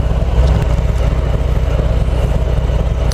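A 2018 Harley-Davidson Heritage Classic Softail with the 114 engine runs steadily nearby, a deep, continuous low rumble holding even throughout with no voices.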